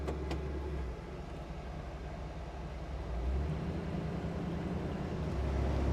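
A 1978 Chevrolet G20 van driving, with a steady low engine and road rumble heard from inside the cabin at moderate level, swelling slightly partway through, with no talking.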